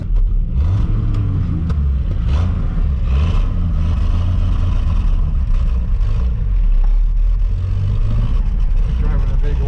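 A lifted Camaro runs rough on the road, its engine sputtering with uneven low rumble and surging revs throughout, loud and close, with people talking over it inside the car.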